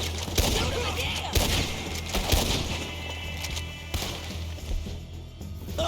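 Rapid gunfire in a Wild West shootout from the video game Red Dead Redemption 2, with repeated sharp shots over a dense, noisy battle background while voices shout.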